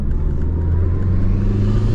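A Chevrolet Corsa 1.6 turbo street car's engine rumbles loudly and steadily at close range under light throttle, a deep continuous drone with no voices over it.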